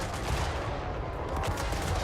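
Trollhammer torpedoes fire in a Total War: Warhammer III battle, a dense, continuous barrage of rapid loud cracks and rumbling blasts with no pause.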